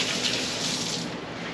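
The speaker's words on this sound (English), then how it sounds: "Rinse my hands real quick." Hands are rinsed under a running kitchen tap, a steady close rush of water splashing into a sink, with no talking.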